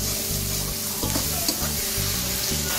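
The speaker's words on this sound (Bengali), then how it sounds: "আমি এবার এটাকে আবারও ভালো করে ভেজে নেব।" Chana kochu and shrimp fry in a pan with a steady, close sizzle and occasional stirring scrapes, loud and continuous with no talking.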